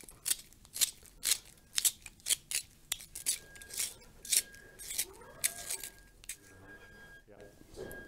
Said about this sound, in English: And this special sharpener is made for this type of pencil.